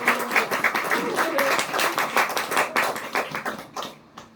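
Church congregation at a Sunday afternoon service claps in encouragement for the pianist, a ragged run of many hands that thins out and fades near the end.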